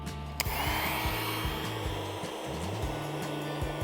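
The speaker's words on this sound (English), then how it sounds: "we got the air mattress compressor running and it's only pulling 47 watts" A small electric air mattress compressor runs with a steady, loud motorized hum and whir, droning continuously without pause.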